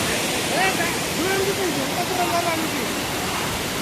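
Rushing water at Mallanna Gandi waterfall in Jangaon, a loud, steady broadband roar with faint, brief voices or calls buried beneath it.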